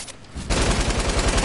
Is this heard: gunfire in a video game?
yes